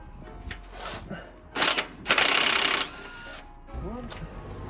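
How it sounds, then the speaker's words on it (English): Impact gun loosening the bottom shock mount bolt on a 1970 Impala lowrider, two loud close bursts of rattling hammering, the second longer, amid quieter workshop clicks and talk. "It's always easier to use your impact gun."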